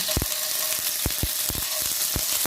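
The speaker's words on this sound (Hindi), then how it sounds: "अब इसको हम फ्राई कर लेते हैं। देखिए थोड़ा सा हमने ऑयल लिया है" Chicken and vegetables beginning to stir-fry in a little oil with garlic paste, giving a steady hissing sizzle marked by several sharp clicks and scrapes of a utensil against the pan.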